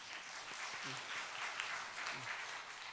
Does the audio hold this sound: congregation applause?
yes